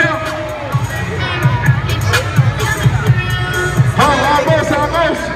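A crowd cheers and shouts at a celebrity basketball game featuring Ray J and Jackie Long. The noise comes in bursts that swell and fade, mixed with children's shouts and an announcer talking over it.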